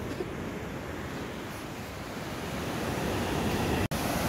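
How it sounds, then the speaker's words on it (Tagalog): Big ocean waves at a beach, a steady roaring wash of surf with wind noise over the microphone and a brief dropout near the end, loud and continuous with no talking. "Ang lalaki ng waves, oh."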